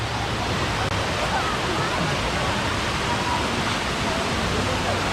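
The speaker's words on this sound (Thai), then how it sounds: "ไปดูม่านน้ำตกดีกว่า" A waterfall at a forest campsite in Nakhon Nayok, Thailand, roars as a loud, constant broadband rush of falling water, steady and close with no pauses.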